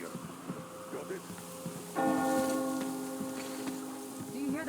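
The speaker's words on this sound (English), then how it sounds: "Do you hear that bell?" A single bell strike rings out partway through in Metro Exodus, and its clear tone decays slowly over the following seconds. It sits over a quiet outdoor ambience with a voice heard briefly.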